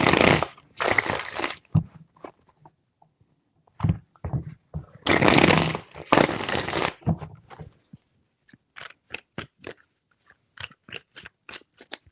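Tarot cards shuffled by hand in two long riffling bursts with a shorter one between, followed by a run of crisp, separate card taps and clicks; no voices.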